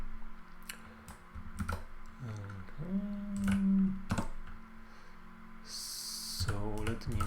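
Keys clatter on a computer keyboard in short, irregular bursts of quiet clicks, close and faint, with other soft tones and a brief hiss between them.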